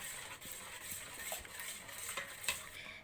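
Cooled cream for a fruit salad being stirred in a bowl, with soft, steady scraping and light clinks of a spoon, close and fairly quiet, with no talk.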